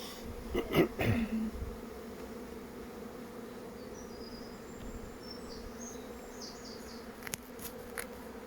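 Honey bees at a hive in Scotland, faint steady buzzing with a few louder close passes near the start and a brief knock later.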